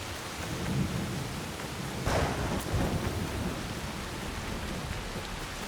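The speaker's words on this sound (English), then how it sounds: "The rain is really coming down right now." Heavy rain pours steadily in Assassin's Creed Shadows, a dense continuous hiss with a rumble of thunder rolling in around the middle, loud and close with no voices.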